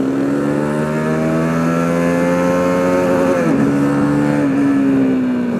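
A 2021 Honda CBR 150R K45R motorcycle revs hard toward its limiter near 11,000 rpm, the engine note climbing steadily and loud, then dipping briefly as the throttle shifts before holding high again.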